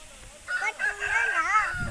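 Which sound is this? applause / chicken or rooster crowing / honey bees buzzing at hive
chicken or rooster crowing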